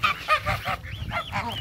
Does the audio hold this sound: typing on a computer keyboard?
no